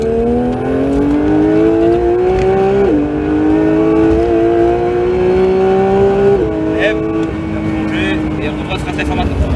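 A Porsche 911 GT3 (992) engine on the Castellet circuit revs hard and climbs through the gears, with the tone rising and then dropping at each upshift. The sound is loud and continuous from inside the car.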